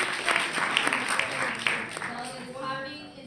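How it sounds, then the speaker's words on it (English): Delegates in a formal debate chamber break into applause after a speech urging a vote against a resolution, a dense wash of clapping with voices mixed in that thins toward the end. "Clapping is not in order at this time."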